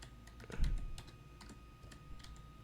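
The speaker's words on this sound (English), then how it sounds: "Now type whatever you want." Keys clatter in a quick, uneven run of typing on a computer keyboard, close and fairly quiet, with a few heavier strokes spaced through it.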